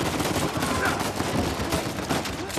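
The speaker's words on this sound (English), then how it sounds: "now they're shooting around the corner again" Enemy gunfire in the Uncharted 4 video game, with guards shooting around a corner: dense, continuous bursts of rapid shots and impacts, loud and unbroken throughout.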